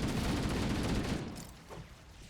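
Rapid automatic gunfire from a machine gun in Halo: Combat Evolved Anniversary, a loud dense burst for about a second that tapers into quieter trailing shots and echoes.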